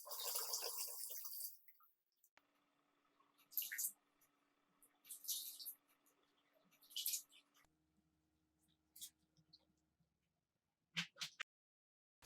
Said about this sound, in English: Wash the rice with water 3 times.